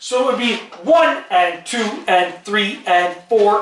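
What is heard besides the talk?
No everyday noises stand out.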